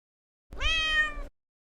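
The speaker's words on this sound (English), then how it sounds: "Come on, kitty, give me a meow." A single clear, drawn-out meow from a cat, close and steady, in an otherwise silent space.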